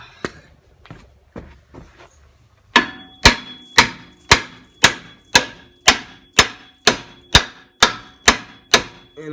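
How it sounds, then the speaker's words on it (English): Hammer blows on a BMW X5 brake rotor in a garage, a few light taps followed by a dozen loud, evenly spaced metallic strikes ringing close by. "Now let's just hammer that rotor out of there."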